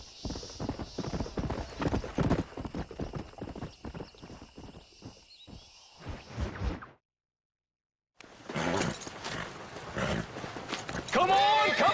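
A stallion in the Western game Red Dead Redemption gallops with steady clip-clop hoofbeats and snorts, then after a brief pause a sharp neigh rises; voices talk over the hooves.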